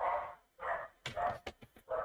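A puppy barks in a few short, close yips and woofs indoors at a card-making table, with brief pauses between barks.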